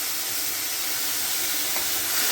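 Water poured into a cumin tempering in a hot pan sends up a loud, continuous steamy hiss and sizzle, close and steady for the whole moment, with no voices.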